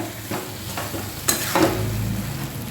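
Dal and egg for egg tadka sautéing in a pan, a soft sizzle with a few scraping stir strokes and a louder clatter near the middle, fairly quiet and close, no voices.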